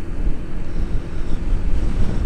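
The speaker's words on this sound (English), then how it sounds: "On a very, very windy morning." Heavy wind buffets the microphone while riding a 125cc motorcycle in Richmond Park, a constant low roaring rumble with no other sounds coming through.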